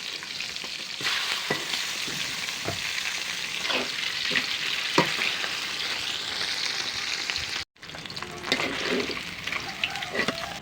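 Pabda fish frying in oil in a pan, a dense steady sizzle broken by scraping and flipping sounds, with a brief cut of silence partway through.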